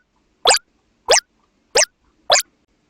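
Four evenly spaced, crisp computer mouse clicks in a geometry software tutorial, each a short sharp tap about two-thirds of a second apart, close and clear against near silence.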